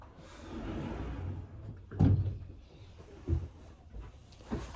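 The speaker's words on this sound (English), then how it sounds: "I'm going to close this door." A door pushed shut indoors, a solid thud near the middle followed by a couple of softer knocks and rattles, close by with no talking.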